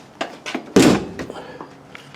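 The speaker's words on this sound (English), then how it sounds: "Let me get the door shut here first." A door on a 1968 Triumph TR250 sports car, under restoration with newly fitted door panels, shuts with a single solid thunk, preceded by faint handling noises and followed by quieter small rattles.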